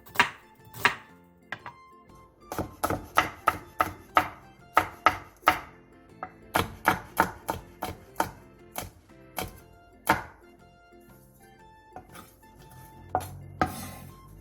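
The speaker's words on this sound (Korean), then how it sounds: "양파 4분의 1개를 채 썰고 청양고추 3개와 청양홍고추 1개를 쫑쫑 썰어주세요" A knife chops onion and green and red chili peppers on a cutting board in rapid bursts of sharp, close taps, with short pauses between the runs of strokes.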